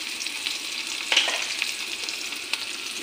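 Whole cumin, bay leaf, dried chilli and onion fry in hot oil in a pan, giving a steady close sizzle broken by occasional scrapes and taps from stirring, with no voices.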